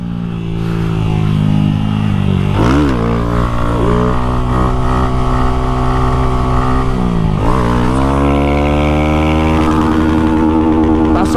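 A Honda CG Start 190 motorcycle accelerates hard on a highway toward top speed, its engine droning loud and close, with pitch climbing through gear shifts and a sustained high-revving whine.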